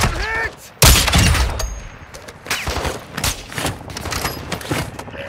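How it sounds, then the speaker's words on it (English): Rapid gunfire from players shooting at a boss in a video game, bursts of shots crackling through the first half then recurring in short volleys, with voices talking now and then. "No, I'm shooting the boss down"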